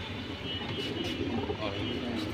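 A large-throated military-breed pigeon coos softly in a loft, a few low, throaty murmurs set against a faint background.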